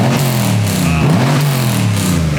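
An LS3 V8 swapped into a BMW E46 with stock manifolds revs hard on its first start-up, a loud, deep, close engine roar with pitch swinging up and down as the throttle is worked.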